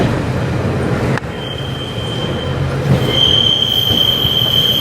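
Train rumbling past near Newcastle on the line to Edinburgh, a steady close roar of wheels with a high metallic squeal rising and sustained in the second half, no voices.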